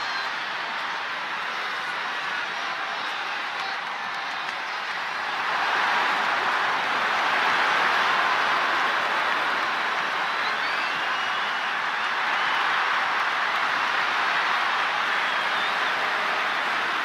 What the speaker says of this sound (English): Rock and Cena face to face, feeding off the electricity of this crowd